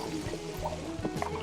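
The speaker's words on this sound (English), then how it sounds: "as it's inflating, that fizz goes into the balloon." Soda fizzing up after Mentos are dropped in, the foam rising into a balloon, gives a soft, bubbly gurgle with small dribbling pops, close and quiet.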